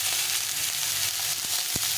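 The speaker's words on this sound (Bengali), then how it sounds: "ডাঁটা আর পটলটা একটু ভাজা ভাজা হয়ে গেছে" Drumstick stems and pointed gourd fry in a pan with a steady, close hiss of sizzling oil, broken by a few brief scrapes or clinks near the end.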